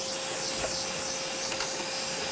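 An ESD-safe vacuum cleaner runs steadily up close, a continuous broadband whoosh with a constant motor whine, used while working on a Tandon TM100-2A floppy drive.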